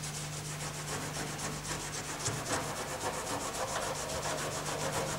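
Cloth rubs old cedar timber furniture with an oil-based Reviver cleaning mixture, giving a continuous close, rhythmic swishing scrub under a steady low hum, with no voices.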